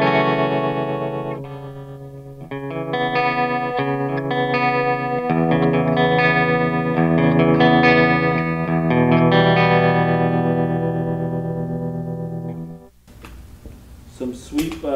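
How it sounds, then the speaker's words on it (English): Clean electric guitar from a Schecter played through a Line 6 M13 pedal with tremolo, sustained chords pulsing in volume over about thirteen seconds, close and loud, ending in a short burst of noise. "Here's some tremolo."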